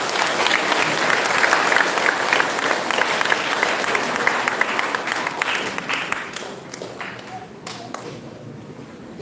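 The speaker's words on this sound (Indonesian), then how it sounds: "Aplaus buat mereka." A church congregation at an Easter Vigil mass applauds the choir, conductor and organist. The clapping is loud and sustained, then thins out and fades toward the end.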